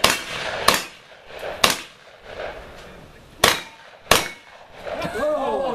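Gunshots ring out at an outdoor 3-gun shooting match, five sharp reports spaced irregularly over several seconds, fairly close, with soft background murmuring and a faint whine near the end.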